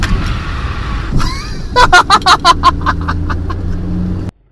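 A Nissan Almera N15 car drives along with a steady low engine hum, then brakes lightly, with a rapid series of close, bright rhythmic clicks or chirps partway through before the sound cuts off abruptly.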